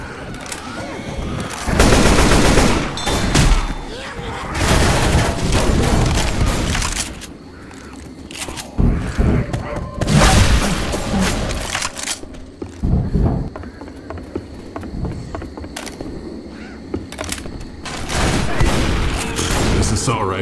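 Assault rifle gunfire in the zombie shooter Left 4 Dead 2 on expert difficulty, with loud bursts of rapid shots and booms separated by quieter stretches of mechanical clicks and creaks, with voices talking between volleys.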